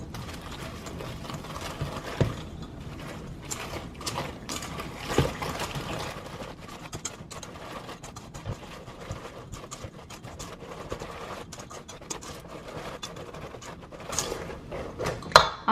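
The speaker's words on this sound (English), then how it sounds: "I'm gonna start whisking" Egg yolk and butter being whisked for a pecan pie filling, a steady rapid clatter of a whisk against a bowl with irregular clicks and taps, close and continuous without talk.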